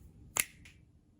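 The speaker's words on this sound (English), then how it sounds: "So I'm just going to snap my fingers and get that done." A single sharp finger snap cracks out close and crisp in an otherwise quiet room, followed by a fainter second click.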